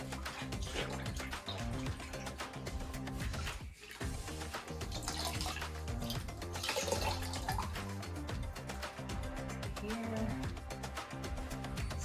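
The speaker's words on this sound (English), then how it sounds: "And then we rinse it again." A grout sponge is rinsed in water during a herringbone tile backsplash installation, with steady close splashing and dripping continuing throughout and no talking.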